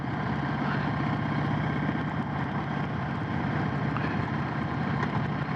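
A 2022 Indian Chief motorcycle riding over rough, broken-up Oklahoma roads, with a steady, continuous engine drone and road rumble holding at a constant level throughout and no voices.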